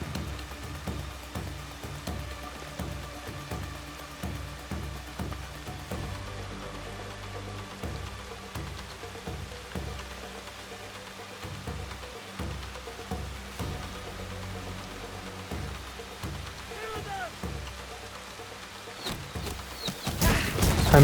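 Rain in the video game Assassin's Creed Shadows falls as a steady patter with scattered heavier drops and thuds, moderate and continuous, swelling louder at the very end.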